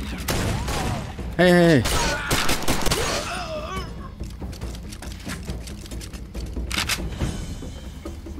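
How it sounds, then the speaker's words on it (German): Heavy gunfire rattles through Far Cry 2, dense rapid shots over a busy game soundscape, with a man calling out briefly near the start and a tonal effect sweeping through early on. "Wer hat hier so krass geschossen?"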